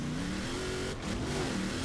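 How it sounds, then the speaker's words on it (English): A tuned Rally Fighter's engine revs steadily in Forza Horizon 4, a continuous mid-pitched drone that dips briefly near the middle before climbing again, loud and alone with no talk. "We are going to use the tuned rally fighter again."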